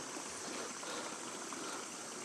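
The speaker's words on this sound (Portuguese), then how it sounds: "A sobra de água vindo lá de cima" Overflow water from farm ponds in southern Minas Gerais runs down in a steady, close stream, a continuous broadband rush and gurgle with no talk over it.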